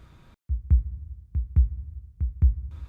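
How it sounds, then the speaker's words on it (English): A quickened heartbeat heard through a stethoscope pressed to a comatose, sweating boy's chest: deep, close lub-dub thumps in three quick pairs, loud and muffled, with a faint hiss before and after. "The boy's heartbeat was quickened"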